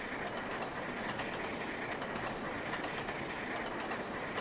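Train rolling on rails in Trainz: A New Era on the Settle and Carlisle route, a dense, continuous rumble and hiss with faint rhythmic clicks of wheels over track joints, steady and fairly loud with no talk.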